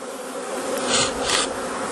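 Honey bees hum in a thick, close, continuous buzz at an opened hive at Mt Si Nursery, swelling briefly louder as the colony stirs.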